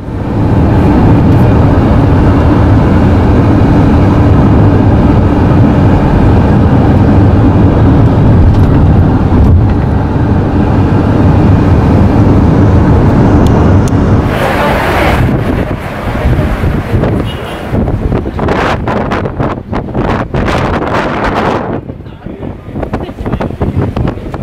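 Riding in a car shuttle on the way to JFK airport, with steady loud road and wind rumble filling the cabin throughout, turning patchier and bumpier toward the end.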